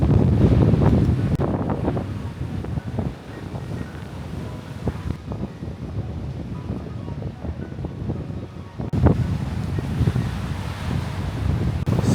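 Wind buffets the microphone while ocean waves wash against the shore at a remote coastal spot in Kunigami, Okinawa, a steady loud roar with surges of surf.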